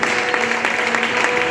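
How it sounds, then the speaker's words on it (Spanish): Congregation applauding in praise of God during a Spanish-language church service, a steady dense wash of clapping with a faint sustained tone underneath and no clear voices. "¿Quieres honrar a Dios con un aplauso?"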